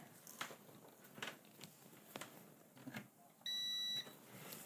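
A multimeter gives a steady continuity beep for about half a second while testing a fuse from a Pioneer DT-540 timer, preceded by light tapping and handling noises.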